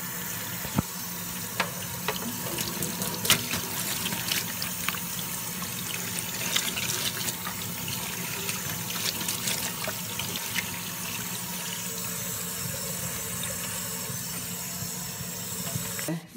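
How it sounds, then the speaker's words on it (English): Tap water running steadily into a kitchen sink during rinsing, a continuous close splash with small irregular clinks and spatters as the stream shifts over the basin. "Now let's rinse everything really well."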